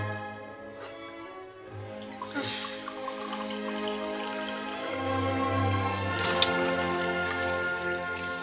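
Steady running water streams from a tap into a glass for several seconds, a continuous splashing flow with faint clinks and no talking.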